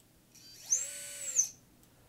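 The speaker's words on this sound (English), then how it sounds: "we're going to bring up one of the motors to full throttle and then right back down" An X210 quadcopter motor spins up to full throttle and straight back down in a brief rising and falling electric whine, close and fairly loud, with no talk.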